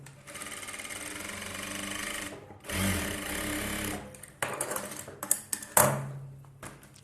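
A sewing machine stitches a seam right beside aari embroidery on a blouse, running in loud steady bursts with brief pauses, then stopping and starting again with small clicks and knocks near the end.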